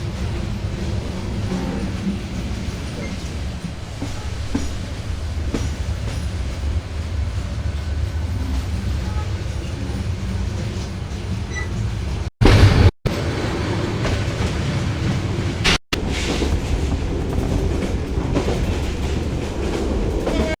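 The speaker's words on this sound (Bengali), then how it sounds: "উত্তরবঙ্গ থেকে রাজধানীর পথে ছুটে চলা এই আন্তনগর ট্রেনটি" The Burimari Express intercity train runs steadily with a loud, continuous rumble and rhythmic clickety-clack of wheels, broken by two brief sharp bursts near the end.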